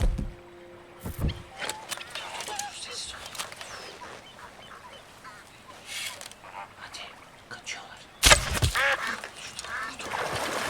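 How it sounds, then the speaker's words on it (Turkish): Ducks quack in the Red Dead Redemption 2 video game, scattered calls over a quiet outdoor ambience, with a louder burst of sound near the end and no talk. "Ördek vuracağım."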